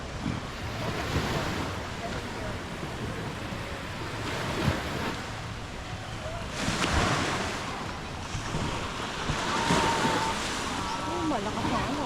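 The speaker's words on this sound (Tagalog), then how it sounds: "Malakas ang alon dito." Surf rolling onto the beach at Boracay in the Philippines during a morning walk, a continuous roar of breaking waves with heavy wind buffeting the microphone and a few louder surges.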